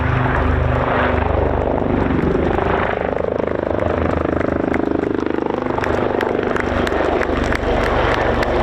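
Helicopters of 825 Naval Air Squadron's Black Cats display team fly past at an air show, a steady loud rotor and engine roar filling the whole stretch with a rhythmic chop.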